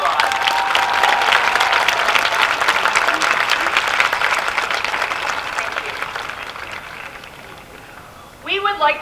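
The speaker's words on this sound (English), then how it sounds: "Let's give them a round of applause." Loud, sustained applause from a large crowd at a high school commencement ceremony rolls on for several seconds, gradually thinning before a speaker's voice comes in near the end.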